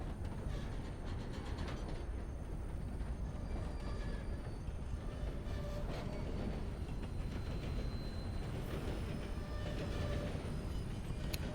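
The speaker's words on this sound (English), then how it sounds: "Let's get the entire train going away." A steam train in Red Dead Redemption 2 rumbling steadily as it pulls away, a continuous low rolling drone with faint metallic clatter, no voices.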